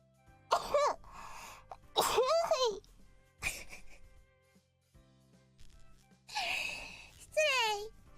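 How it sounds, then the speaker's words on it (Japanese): Several short, close sneeze bursts come from a woman with hay fever, each mixed with high, squeaky voiced gasps, with quiet pauses between them. "くしゃみ出そう。"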